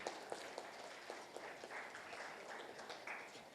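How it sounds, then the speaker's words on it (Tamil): Faint, distant clapping from an audience welcoming children at a children's book event. The applause is soft and scattered, with a few sharper claps standing out in a quiet room. "குழந்தைகளுக்கு கைத்தட்டி உற்சாகப்படுத்தி"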